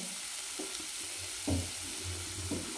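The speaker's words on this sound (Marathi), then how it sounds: "याला काही सेकंद आपल्याला परतून घ्यायचे।" Spices and garam masala sauté over a low flame for a brie, scrambling fry, a steady hiss broken by several soft scrapes and knocks of a stirring spoon, one firmer clack midway.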